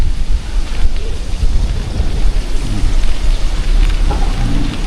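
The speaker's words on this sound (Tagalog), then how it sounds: "Grabe ang ulan ngayon." Heavy rain pours steadily around a workplace early in the morning, a dense, loud, unbroken hiss with low rumbling underneath, no one speaking.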